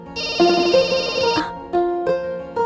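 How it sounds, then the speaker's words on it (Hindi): A phone ringtone plays a sustained electronic tone in a Hindi-dubbed action movie, then cuts off; short bursts of voices follow as the ring repeats in brief pulses. "किडनैपर का फोन"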